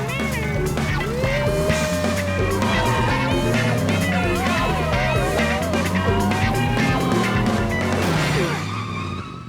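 Cartoon car chase with a getaway car fleeing police cars: sustained tire squeals and skidding with wavering, sliding pitches over rumbling engine and music, loud and close, ending in a fading rush.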